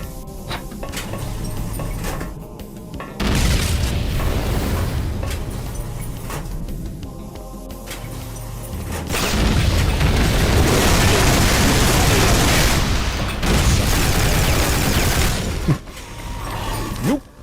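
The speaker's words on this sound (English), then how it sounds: "Nuclear pipe bombs." Nuclear pipe bombs going off in Duke Nukem 3D with the Alien Armageddon mod: loud roaring explosions that swell into a long, dense rumbling blast, with mechanical game noise and thuds around them.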